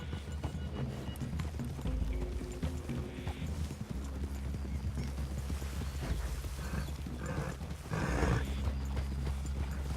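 Horses in Red Dead Redemption 2 move through a wooded clearing, hooves clip-clopping in an irregular close rhythm, with a brief whinny and soft snorts over low ambient game sound.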